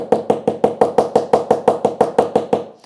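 Rubber mallet striking repeatedly at a steady, quick rhythm in a workshop while assembling a chubby-bottomed pouch, about a dozen close, even knocks with no talk.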